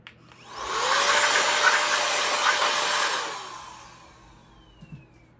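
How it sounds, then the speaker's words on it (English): An electric duster blasts air over a PS5 console in one loud, steady roaring burst of about three seconds that then winds down and fades, followed by a couple of faint clicks. "I have my duster on. Y'all are going to hear some noise for a second."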